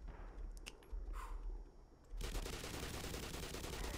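Shotgun fire in the video game Black Mesa: a couple of quick blasts, then a dense, loud burst of gunfire that carries on to the end.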